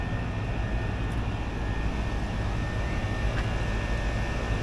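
A Carrier air conditioning condenser unit runs steadily outdoors in Orlando, giving off a constant broadband fan whoosh with a low hum and no break.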